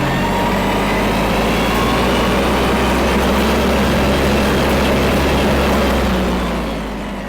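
An Eicher 280 4WD tractor engine runs steadily, a loud, continuous low diesel drone with a constant pitch that eases off slightly near the end, heard alone without talk.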